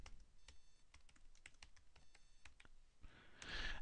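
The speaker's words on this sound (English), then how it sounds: "I'm going to type it in." Someone typing a UPPMAX login on a computer keyboard: a run of light, close key taps at an uneven pace, quiet, ending in a brief burst of louder noise.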